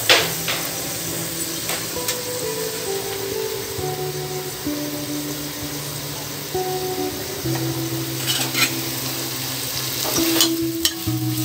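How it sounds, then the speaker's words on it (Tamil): Onion, ginger and garlic sautéing in a pan give a steady close sizzle with occasional stirring scrapes, alongside a faint background music-like hum, no talking. "இப்போ வெங்காயம் இஞ்சி பூண்டு எல்லாமே நல்லா வதங்கிடுச்சு"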